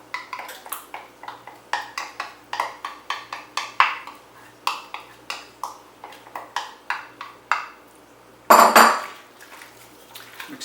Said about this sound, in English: Mix it all together really well.